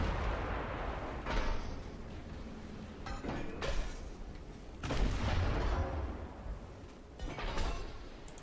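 Battleship main guns firing in the naval strategy game Ultimate Admiral Dreadnoughts, several deep booming salvos spaced a couple of seconds apart over a low rumbling background.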